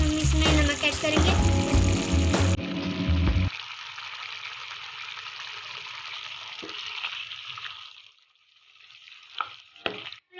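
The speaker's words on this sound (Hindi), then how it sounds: "चिकन को अच्छी तरीके से भून लेंगे।" Chicken with salt added frying over high flame in a pan, a loud sizzle with stirring clatter at first that drops to a softer steady hiss, then fades with a few scrapes near the end.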